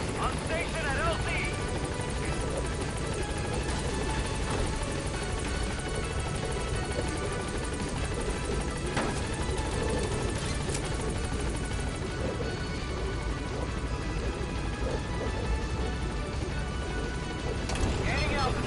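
Helicopter in a PS4 video game, a continuous loud rotor drone under game radio chatter from a pilot.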